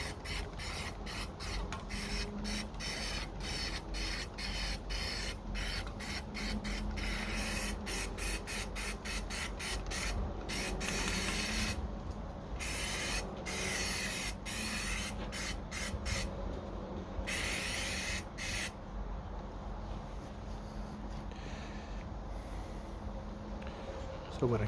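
A Dominion Sure Seal rattle can sprays a Nissan Xterra grill in rapid repeated hissing bursts, then longer sustained sprays, close to the listener, with a voice speaking occasionally.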